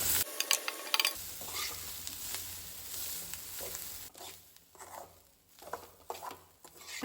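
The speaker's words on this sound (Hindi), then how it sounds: "मैंने कोकोनट का अच्छे से फ्राई करके ले लिया है।" Coconut frying in a pan on a gas stove, a quiet close sizzle with scraping stirs and light pattering, interrupted by a few louder clattering bursts.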